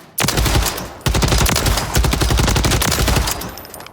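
An HRM9 SMG fires at a firing range in Warzone: loud, sustained full-auto bursts with only a brief pause near the start, each stream of rapid shots close and dense.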